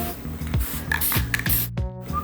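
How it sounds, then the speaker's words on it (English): Spray paint can hissing in several short bursts, each a few tenths of a second, close and fairly loud, with brief gaps and faint handling noises between them. "Honestly, spray paint, once you get the hang of it, it really can transform like anything."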